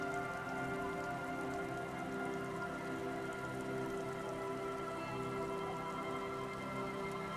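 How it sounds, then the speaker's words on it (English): Steady rain falls throughout on an outdoor surface, a dense, even patter with no pauses and no voices. "it started to rain"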